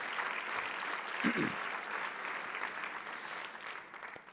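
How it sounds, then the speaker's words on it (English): Gala crowd at a Mercy Housing event in California applauds for a colleague, a steady, fairly distant wash of clapping across the whole clip with a brief nearby voice and a sudden louder burst at the end. "please join me, a round of applause for Doug"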